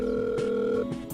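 A telephone ringback tone sounds through a handset as a call goes unanswered, a steady buzzing tone that cuts off after under a second, with faint background noise.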